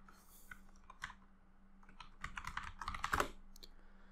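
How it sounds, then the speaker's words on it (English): Typing on a computer keyboard, sparse key clicks at first that build into a quick, busier run of close, crisp keystrokes, with no talk. "when I type anything in this document"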